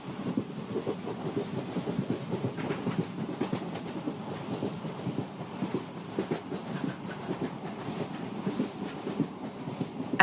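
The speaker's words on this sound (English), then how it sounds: "you find yourself on a train in the hills of Darjeeling" A train rolls through the hills of Darjeeling with a steady, close rumble and a continuous clickety-clack of wheels on rail joints, with no voices.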